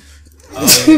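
A single sharp human sneeze bursts out after a brief hush, loud and close.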